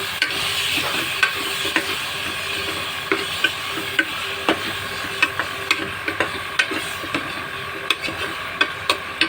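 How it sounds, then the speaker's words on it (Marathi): Ground masala paste for dal and drumstick sambar sizzles in a pan while a spoon scrapes and knocks against the metal in a steady, close stirring rhythm, with no voices. "त्यामध्ये आता आपण वाटण घालूया आणि ते परतून घेऊया."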